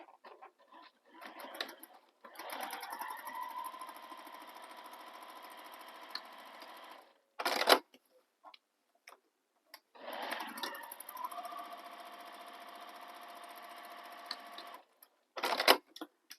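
A sewing machine topstitches down the long folded edges of a handbag in two sustained runs of several seconds, each ended by a brief loud clatter, with quiet handling sounds between and no talking.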